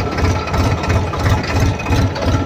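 Tractor engine running steadily in a farm field during worsening weather, a loud continuous low rumble with rhythmic throbbing pulses, close and alone without talk.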